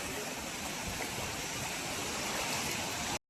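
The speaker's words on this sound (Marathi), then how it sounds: "हा पहिला धबधबा आहे आणि याच्या समोरच खाली तुम्हाला बघा हा इथून पडतोय" Kumbharte waterfall cascading steadily, a broad, continuous rush of falling water heard close and fairly loud with no voices, cutting off abruptly at the end.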